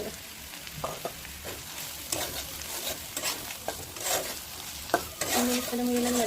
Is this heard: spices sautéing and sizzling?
yes